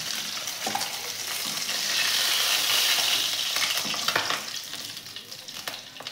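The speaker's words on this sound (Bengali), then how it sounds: "এরপর বাকি মাছগুলো ভেজে নেব।" Chital fish fries in mustard oil in a kadai, giving a loud, continuous hissing sizzle that swells and fades, broken by occasional stirring clatters.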